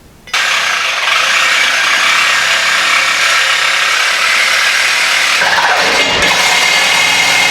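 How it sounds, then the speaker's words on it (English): Power saw cutting notches in steel tube for a custom Jeep Wrangler YJ front bumper, a loud, steady close whine that holds for about seven seconds, with a slight pitch dip near the end. "So I saw these out"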